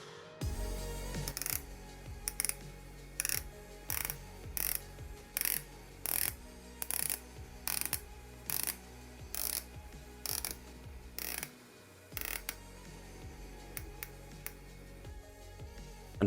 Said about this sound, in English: The 120-click ceramic bezel is like a good PC mouse. It's clicky and precise.